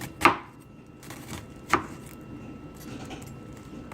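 A knife chops an onion on a cutting board with two sharp, close thwacks about a second and a half apart, followed by softer scraping and light taps, with no speech.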